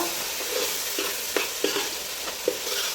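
Chicken being stirred with chili powder in a pan, with a soft steady sizzle beneath a few light, distinct scrapes and taps of a utensil against the pan, fairly close.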